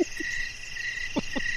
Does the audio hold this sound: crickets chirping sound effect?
yes